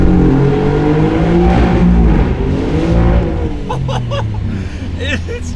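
A loud Alfa Romeo Giulia Quadrifoglio GTAm engine revs and accelerates with a deep, echoing roar through a tunnel, its pitch climbing and falling as it surges forward.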